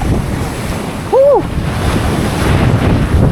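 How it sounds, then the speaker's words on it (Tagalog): Rough, powerful sea surf breaks and rushes continuously along a deep fishing spot with a strong current, mixed with steady wind buffeting the microphone, while a man briefly whoops over the roar. "Ang lakas ba naman ng dagat mga kaibigan."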